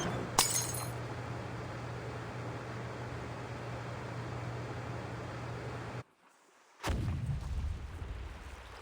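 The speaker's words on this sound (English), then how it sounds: "Sounds like some kind of explosion near the clinic." An explosion goes off near a clinic in an audio drama: a loud rumbling blast with a sharp crack and breaking glass at the start, a long sustained roar, sudden silence, then a second heavy burst.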